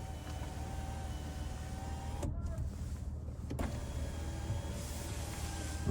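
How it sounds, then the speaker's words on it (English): The one-touch power tilt-and-slide sunroof of a 2021 Buick Enclave Avenir runs with a steady electric motor whine inside the cabin, pausing briefly with a click partway through before moving again. "here you have your power tilt and sliding one-touch power sunroof"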